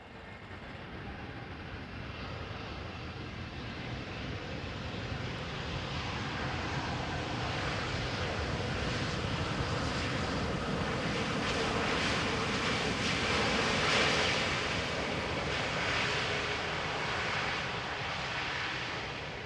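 An airplane landing at Amsterdam Schiphol Airport gives off a steady, broad engine roar heard from a distance, swelling slowly to a peak and then easing slightly, with no voices.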